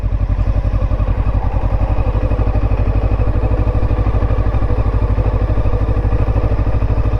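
Cyclone RA401 cruiser motorcycle idling in first gear as the clutch is let out with no throttle, a steady, deep, loud engine thump with regular low pulses and a light mechanical clatter, unchanging throughout.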